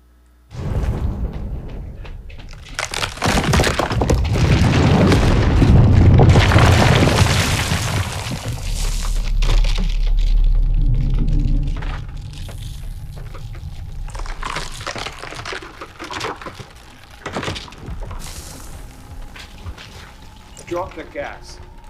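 Film sound effects of a building being torn apart and destroyed, heavy rumbling booms and crashing debris surge loud for about ten seconds, then thin into scattered crumbling and settling noises, with voices talking over parts of it.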